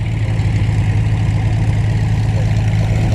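The old engine of a PT-17 Stearman biplane idles as it taxis at Spartanburg airport: a loud, steady low rumble with a throbbing exhaust beat, unbroken throughout, with no voices.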